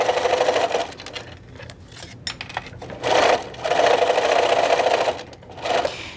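Sewing machine stitching a fabric towel topper, running in several loud bursts of rapid stitching separated by brief pauses, with the motor whirring steadily during each run.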